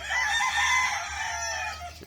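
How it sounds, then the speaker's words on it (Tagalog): A small bantam rooster, a pet chicken, crows one long, loud call close by with a hum in the background. "Dahil maliit na manok."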